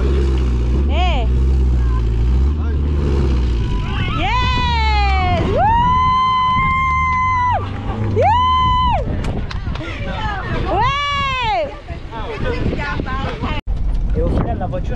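A car engine drones low and steady while the vehicle is pushed out of sand in Senegal, with loud shouting voices and gusting wind noise over it.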